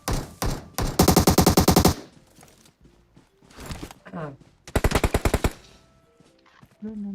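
Automatic weapon fire in the shooting game PUBG Mobile, two loud rapid bursts of shots with shorter single cracks and quieter gaps between them, close and sharp.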